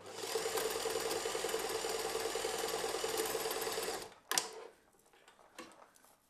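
Sewing machine stitching a dress armhole, a fast rhythmic close mechanical whirr for about four seconds that stops abruptly, followed by a few handling clunks and quiet.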